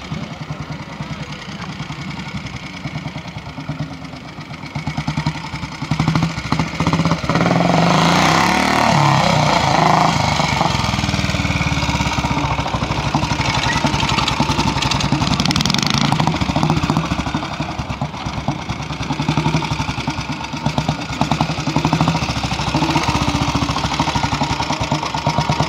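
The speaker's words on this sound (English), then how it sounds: "Steve Corden, Rigid AJS," A rigid AJS motorcycle at a Yorkshire classic pre-unit trial on Keighley Gate, its single engine loud and close, idling then revving in a sustained rough drone with outdoor wind noise.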